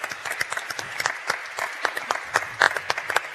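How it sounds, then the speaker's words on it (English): An audience in a hall applauding the candidates at a district city council forum, a steady wash of many hands clapping at moderate volume. "Please give our candidates a big round of applause."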